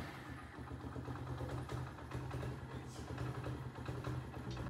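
A motorcycle engine idles with a steady low throb, fairly quiet and continuous, while someone talks over it.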